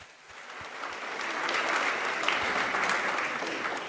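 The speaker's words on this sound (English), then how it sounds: "A last round of applause to all of them" Audience applause for contest finalists at a science innovation competition, a dense wash of many hands clapping that swells after the first second and holds steady, with no voices over it.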